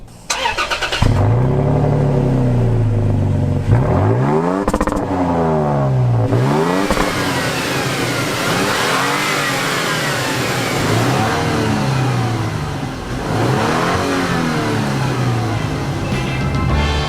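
Toyota Tacoma V6 pickup revving hard, its exhaust note rising and falling in several loud sweeping runs up and down the rev range, close and continuous throughout.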